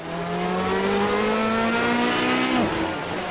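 Ferrari engine in a racing video game revving loud and steady, pitch climbing slowly under a continuous drone before dropping sharply as the car shifts or brakes, with tire noise beneath.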